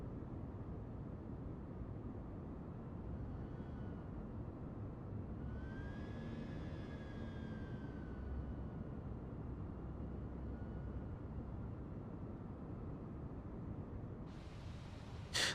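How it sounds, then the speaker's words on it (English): Jet engines of a Fenix A321 in a flight simulator game drone in a steady, faint rumble with a brief whining tone rising and fading midway, heard alone without talk. "Those engines sound so realistic too."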